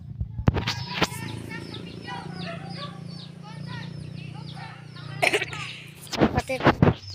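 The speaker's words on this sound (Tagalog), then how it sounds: "Nandiyan na mga kalapatids." Pigeons coo and chirp close by in quick repeated calls, with a few sharp clattering knocks at the start and end.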